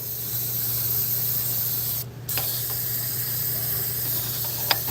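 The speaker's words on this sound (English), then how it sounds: "See if I can spray some more up in there." A spray can of cleaner hisses steadily into the front cover area of a 2014 Ford Escape 2.0 EcoBoost engine during a reseal, a continuous close spray with a brief pause midway and a faint clink near the end.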